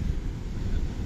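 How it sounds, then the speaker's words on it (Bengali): Wind blows hard at Tottlakonda beach on the east coast near Vizag, a dense, steady low rumble of gusts buffeting the microphone, with no voices. "ভালোই হাওয়া দিচ্ছে"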